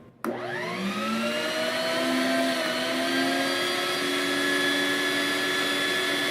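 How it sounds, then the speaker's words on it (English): Stand mixer kneading potato roll dough with black peppercorn and rosemary, motor switching on abruptly and then running as a steady, close whirring hum with rising whine that holds for several seconds, no talk. "we're going to turn this on, and we're going to mix it until the dough pulls away from the side"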